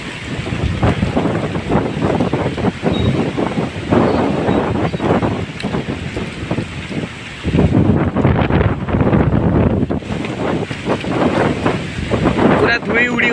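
Strong wind gusting outdoors in Odisha, a loud continuous roar buffeting the microphone in surges, with a person talking over it throughout.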